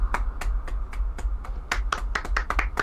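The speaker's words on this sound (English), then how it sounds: "Claps for Sam." Sparse, uneven hand claps from a small group, a dozen or so sharp separate claps scattered across a few seconds, quickening toward the end over a low hum.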